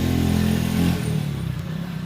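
A motorcycle passes on a road beside a home garden, its steady engine drone loud and close for about a second before receding into lower road traffic noise.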